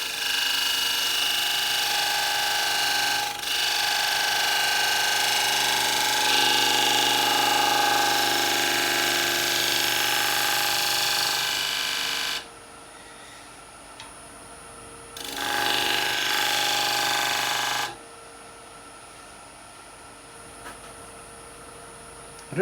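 A gouge takes a very fine finishing cut on a woodturning lathe, giving a steady, loud broadband rasping hiss for about twelve seconds, then stopping, with one more short burst of cutting before quiet returns.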